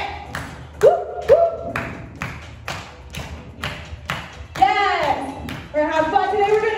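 Hand claps during a step fitness workout warm-up, a few sharp claps mixed with stepping thuds under upbeat music, with an instructor's voice talking over them.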